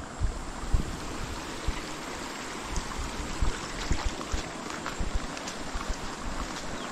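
High water rushes through a stream in a steady, full roar, broadband and continuous, with gusts of wind buffeting the microphone now and then.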